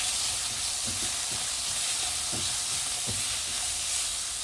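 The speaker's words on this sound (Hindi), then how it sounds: "ये तीनों को डाल करके हम बहुत अच्छे से इसे सौटे करते हैं पहले" French beans and capsicum sautéing in a hot pan give a steady soft sizzle with a hiss, along with a few scattered clinks and stirring scrapes, and no one speaks.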